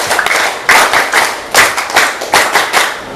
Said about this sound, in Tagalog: Bigyan na natin siya ng 10 palakpak.